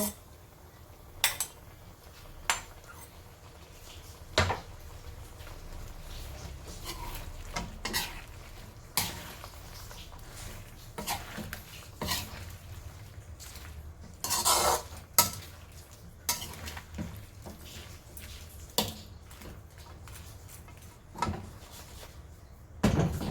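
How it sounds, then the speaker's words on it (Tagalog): Creamy buttered shrimp sauce being stirred slowly in a pan, with repeated clinks and scrapes of a utensil against cookware over a low cooking hiss, fairly close and without talk. "I-mix lang natin siya ng dahan-dahan. Ito na yung ating sauce kanina."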